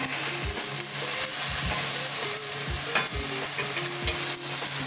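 Pepperoni sizzles in a pan at a restaurant kitchen while a utensil stirs and scrapes it, steady close frying hiss with repeated scraping knocks and no talk.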